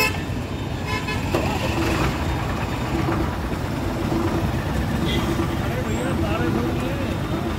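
Vehicles of a large convoy pass along a road in Meerut during a PM Narendra Modi visit, with steady engine rumble, occasional horn toots and constant crowd chatter and voices close by.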